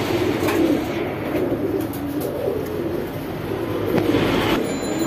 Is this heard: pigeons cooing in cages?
yes